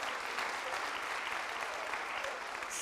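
An audience applauds at a business awards ceremony, steady sustained clapping from a crowd at moderate distance, continuous for nearly three seconds with no voices over it.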